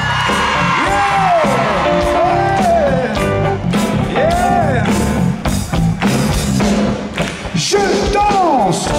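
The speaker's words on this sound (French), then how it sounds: "les garçons, ça va hurler beaucoup plus fort" A concert crowd at a French pop show yells and whoops loudly, mixed into full band music and singing throughout, with thumping beats.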